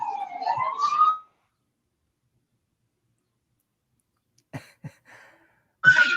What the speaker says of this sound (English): Forgive the passing siren.